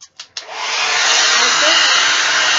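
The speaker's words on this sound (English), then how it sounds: "Took my good old dryer." A hair dryer clicks on in a few short bursts, then blows a loud, steady airy roar close by while drying a synthetic wig held under a wig cap.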